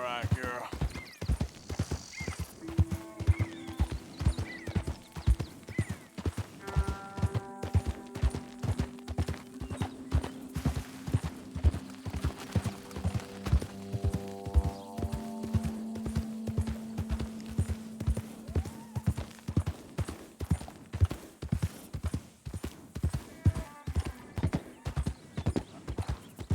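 A horse in the Red Dead Redemption 2 video game walks with steady, rhythmic clip-clop hooves throughout, joined by occasional whinnies, while someone talks over it.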